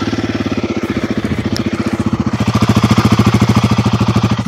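A Royal Enfield Guerrilla 450 motorcycle idles close by through its short stock exhaust, a loud, steady, rapid thumping pulse that swells slightly midway.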